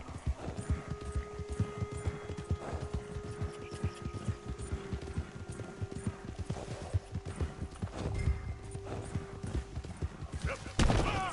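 A horse is ridden in Red Dead Redemption 2, its hooves clopping in an uneven rhythm as it walks and turns, someone talking over it and a sharp louder hit at the very end.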